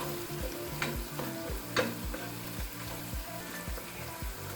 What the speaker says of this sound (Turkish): Evet salçam kavruldu.